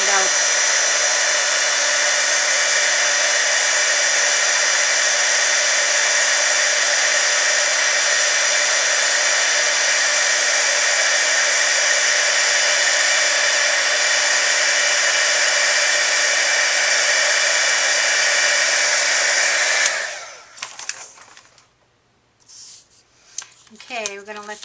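Heat tool heat-setting embossing powder on a card, a loud steady blowing roar that runs continuously for about twenty seconds and then cuts off, followed by faint handling noises.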